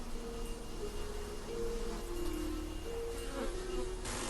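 Bees packed by the thousands in hive boxes, a constant close buzzing drone with individual insects whining past, no talk.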